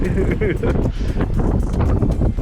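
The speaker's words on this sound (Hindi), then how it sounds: "हवा बहुत तेज़ है यहाँ पे" Strong gusting wind buffets the microphone at Fotu La pass, the high point on the Srinagar-Leh highway, roaring loud and close while someone talks over it.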